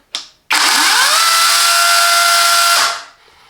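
A Parkside Performance 40V cordless pruning saw, model PPAKS 40-Li A1, gives a short click, then whines up to a high steady motor pitch for about two seconds before spinning down.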